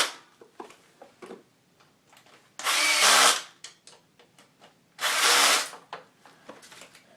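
A power driver runs a screw into the kickstarter cover of a Honda Urban Express NU50 scooter, giving two loud, steady whirring bursts of about a second each, with faint clicks and handling noises between them.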